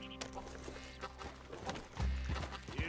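Horse hooves clip-clopping in the video game Red Dead Redemption II, a steady soft trot of hoofbeats beneath game music and ambience, with a low rumble near the end.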